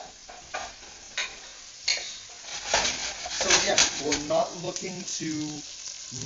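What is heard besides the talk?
onions sizzling in oil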